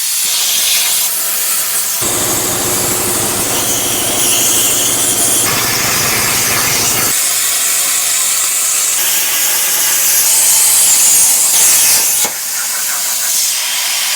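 A CNC plasma cutter slices through steel plates with a loud, continuous hiss and roar. The tone shifts between cuts and ends in a brief pause.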